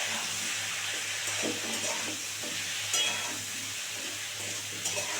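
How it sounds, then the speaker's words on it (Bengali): Steamed cauliflower and potato pieces fry in a pan with turmeric and salt, giving a soft, continuous sizzle broken by occasional scraping stirs. The sound is fairly quiet and close, with no talk. "বন্ধুরা আবার লবণ হলুদ দিয়ে দিয়েছি, এটাকে আবার সুন্দর করে ভেজে নেব"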